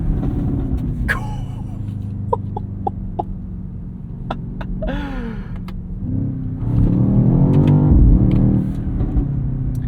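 The 4.4-liter, 738-horsepower engine of a 2024 BMW XM Label SUV rumbles steadily, then surges louder as it accelerates hard near the end, with brief voices and exclamations mixed in.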